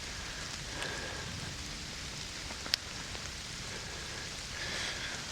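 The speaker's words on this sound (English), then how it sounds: "Starting to rain." Rain begins falling outdoors at a coyote trapping set, a steady soft hiss of drops on the ground with one sharp tap partway through, and no talk over it.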